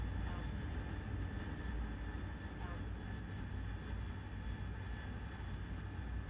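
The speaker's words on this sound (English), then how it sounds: "A little bit of a heavy takeoff." A jet engine roars steadily through a heavy takeoff in the DCS World flight simulator, a dense constant rumble with a high whine that stays loud and unbroken throughout.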